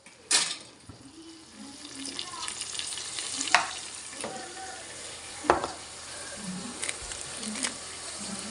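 Fresh ginger paste frying in oil for biryani, with a soft steady sizzle under scattered clinks and scrapes of a utensil against the pot and some water splashing, and no talking.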